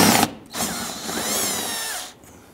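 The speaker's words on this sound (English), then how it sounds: "Loosen and remove those." A power tool spins out 5/16 screws on the underside of a 2011-2019 Ford Explorer during front ABS sensor work, a short sustained whir running about a second and a half after a brief burst, close and fairly loud with no talking.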